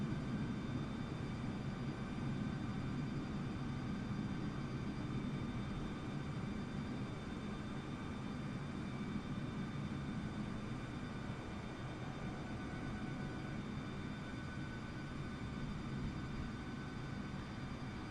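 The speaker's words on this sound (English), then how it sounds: "And so we'll just taxi to our gate." An Airbus A320neo airliner taxiing to the gate in Microsoft Flight Simulator, a steady low engine drone with a whining tonal hum that holds constant and unbroken throughout.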